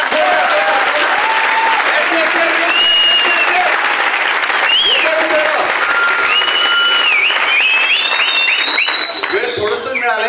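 Loud, sustained applause from a large crowd at a company anniversary celebration, with cheering and whistle-like calls rising above the clapping throughout.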